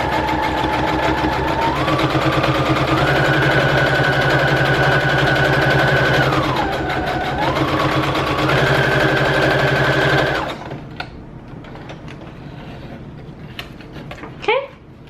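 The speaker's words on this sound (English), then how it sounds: "So let's go ahead and sew these." A sewing machine runs steadily for about ten seconds while stitching junk journal pocket pages, its motor whirring at shifting speeds, then stops, leaving quiet room sound and a couple of small clicks.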